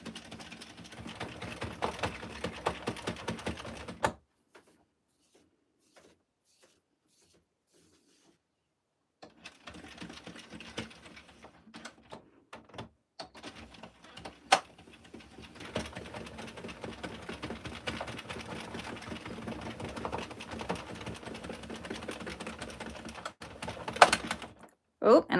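A domestic knitting machine runs in rhythmic bursts of clattering carriage passes, stopping for a stretch of near silence before starting again, with a voice talking over parts of it.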